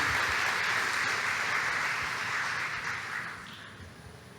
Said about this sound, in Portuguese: queria pedir uma salva de palmas para o nosso pastorzão